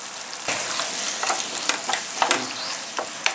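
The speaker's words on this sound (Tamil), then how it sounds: "இப்போ இதை பார்த்தீங்கன்னா மிதமான தீயில லைட்டாக ஒரு வதக்கி விட்டுக்கலாம்." Onions sauté over a medium flame with a brisk, continuous sizzle. Sharp scrapes and clinks of stirring break through it now and then, and nobody speaks.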